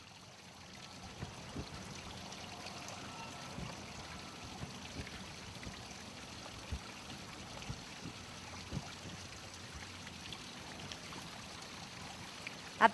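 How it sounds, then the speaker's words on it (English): Stormwater flows steadily into a stone grotto at the foot of a hill in the Waterworks Gardens landscape. A soft, continuous trickling rush with small splashes, faint and fairly distant, and no voices. "stormwater cascades into the grotto, which resembles a sprouting seed pod"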